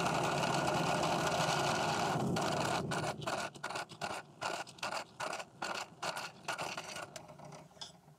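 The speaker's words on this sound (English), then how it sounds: "I'll be using peck drilling because you want to clear your hole of chips" A small carbide bit peck drilling a titanium knife scale: a continuous grinding whine first, then short repeated bursts of drilling separated by brief pauses as the bit is lifted, close and alone.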